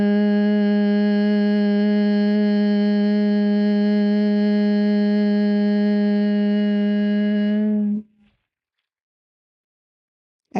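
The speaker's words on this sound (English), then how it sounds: "Inhale deeply and exhale with a hum." A steady, sustained hum on one low pitch held through a long, slow exhale for about eight seconds, then it stops and leaves near silence.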